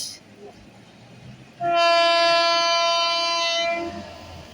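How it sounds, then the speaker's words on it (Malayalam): At Irinjalakuda railway station, a passing train sounds one long, loud, steady horn blast lasting a few seconds. Quieter ambient noise from the station lies before and after it. "I think it is Jamnagar train."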